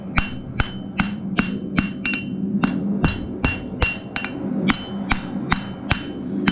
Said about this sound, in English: hammer it flat again